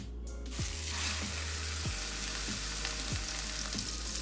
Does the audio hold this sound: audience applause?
no